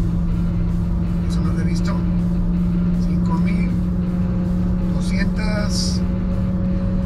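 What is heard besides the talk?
MG GT car engine revving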